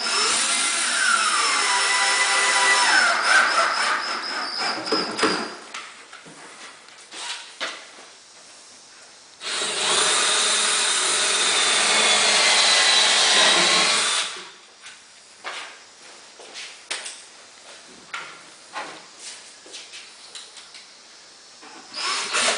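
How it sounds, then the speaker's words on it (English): A power drill whirs through a wood filler strip while wall cabinets are installed, in two long bursts separated by a pause, with quieter knocks and handling noises in between. "can go ahead and drill through here into our filler strip"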